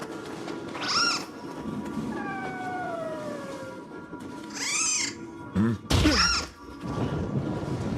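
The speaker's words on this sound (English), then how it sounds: "That would be a Scampus. A cat-like yokai just like myself." A cat-like yokai in a video game trailer gives several loud, drawn-out meows and wails at intervals, mixed with dull thuds and thumps over a low background.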